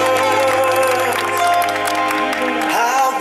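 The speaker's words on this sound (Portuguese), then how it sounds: "Uma salva de palmas para nossa homenageada." Loud applause and cheering from a crowd at a birthday celebration for an honoree, steady and dense throughout, with music and voices mixed in underneath.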